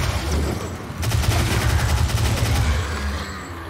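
A chain gun firing in the Doom game Knee Deep in the Dead, heard as a rapid, loud burst of rhythmic shots that starts abruptly about a second in and runs steadily over low rumble.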